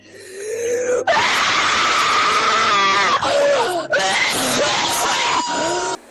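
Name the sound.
person shouting as loudly as possible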